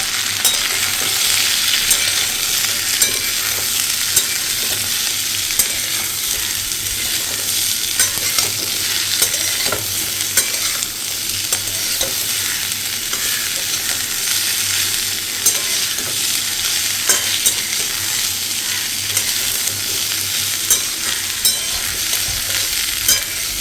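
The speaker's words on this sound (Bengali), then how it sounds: "এটা একটু ভালোভাবে ভাজা ভাজা হোক" Potatoes, onion and green chili fry in a pan with a constant close sizzle, while a spatula scrapes and taps the pan in frequent rhythmic strokes and no one talks.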